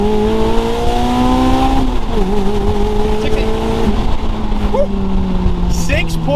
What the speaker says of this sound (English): We're going to do another 0 to 60 now of what the car can do now with the 2ZZ